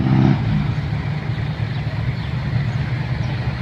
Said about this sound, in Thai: เสียวัดลงมือเองครับขับรถไถครับเพิ่งเคยเห็นครับ